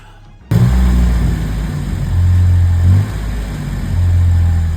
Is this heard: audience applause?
no